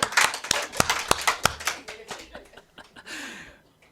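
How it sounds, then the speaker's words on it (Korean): A church congregation claps in a quick burst of individual hand claps that thins out over a few seconds, with some light laughter mixed in. "박수 좀 쳐주세요."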